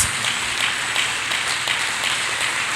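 A church congregation claps hands together in praise during a worship service, a dense, steady wash of many overlapping claps with faint pulses of rhythm, close and fairly loud.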